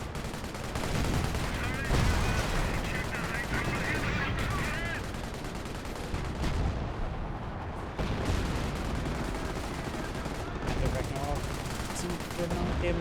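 Continuous gunfire and battle noise pour onto Panther tanks in the strategy game Company of Heroes, dense overlapping shots and rumbling impacts at steady loudness, with a commentator talking over the fighting.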